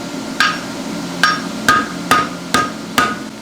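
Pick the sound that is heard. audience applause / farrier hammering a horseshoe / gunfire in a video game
farrier hammering a horseshoe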